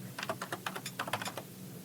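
Rapid keystrokes on a computer keyboard, a close, uneven patter of individual clicks with no talking.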